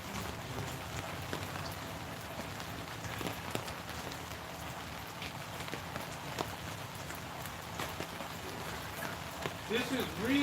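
Steady rain falls outdoors on a post-Christmas day, a dense continuous patter close by with a few sharper drops and brief scuffs near the end.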